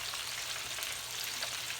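Steady, crackling sizzle of pork finger ribs frying in a deep fryer's hot oil, a dense hiss continuing evenly throughout with no voices.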